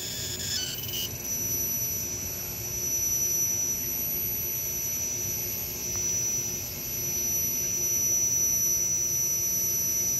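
SCX24 RC crawler with an 1100kv outrunner motor, mod 5 gears and a poorly matched ESC crawling slowly, a thin high-pitched electric whine held steadily over a faint rumbling background, close and fairly quiet, with no talking.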